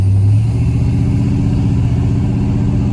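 A 1982 Chevrolet Silverado pickup's engine pulls hard and revs under acceleration, a loud, close, continuous low rumble with a rising engine tone throughout.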